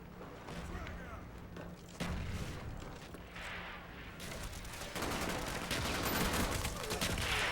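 Mortar strikes in Call of Duty: Black Ops land as a run of muffled booms and gunfire bursts, swelling louder toward the end, with a voice briefly speaking over the battle.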